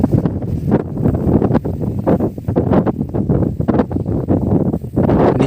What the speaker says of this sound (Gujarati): અહીં પણ ખૂબ પવન વાઈ રહ્યો છે અને આપને પવનનો અવાજ પણ સંભળાતો હશે.